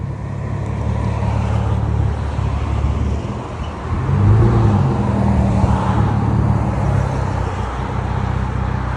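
A Hyundai Genesis 3.8L V6 with aftermarket exhaust idles loudly with a deep, throaty exhaust rumble that swells briefly midway, steady and close, with no talking.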